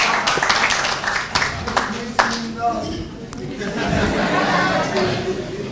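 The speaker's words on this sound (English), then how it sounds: "Shall we give a round of applause to Collins?" Applause for a participant at a laboratory quality-week quiz final: light, scattered clapping in the first couple of seconds that thins out into room chatter, some chuckling and overlapping voices.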